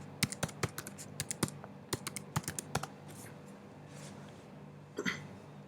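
Bursts of quick clicking keystrokes on a computer keyboard, close and distinct, with a pause and a final short tap cluster.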